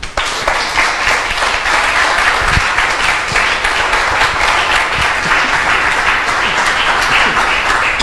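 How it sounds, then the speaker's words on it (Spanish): Sustained, loud applause from a church congregation during a Spanish-language service, dense steady clapping filling the room without letup, with faint voices mixed in. "Denle un aplauso al Señor."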